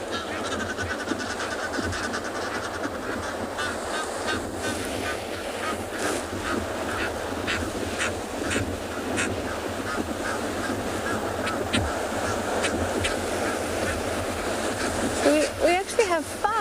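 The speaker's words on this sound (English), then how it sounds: "So I think we'll go and have a look at this duo who are causing all the noise and all the trouble." Several Egyptian geese call on a seashore, scattered hoarse honks and quacking bursts over steady surf, growing busier toward the end, with someone talking over them part of the time.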